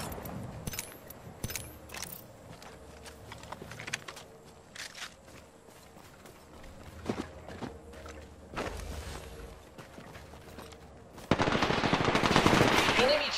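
Video game gunfire in Apex Legends: scattered single shots and short bursts over quiet game ambience with footsteps and gear rattles, then a louder, denser volley of fire near the end.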